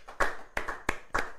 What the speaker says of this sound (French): acclamons pour notre sœur Doris qui a fait son interprétation